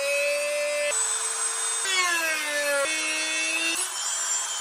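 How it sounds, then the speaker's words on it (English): A Dremel rotary tool with a cutting disc slices slits into a homemade knee board, giving a continuous high-pitched whine whose pitch drops and climbs as the disc bites and eases through the cut. "As far as how to cut that with the Dremel, I think since it's a disc, I'm just going to start it in the center and then work my way over."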